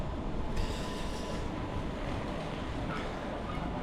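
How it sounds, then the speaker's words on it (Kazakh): Trams roll along a city street in Wrocław, Poland, a steady close rumble of wheels on rails with faint metallic squeals, heard alone without talk. "Мынау трамвайлар кетіп бара жатыр."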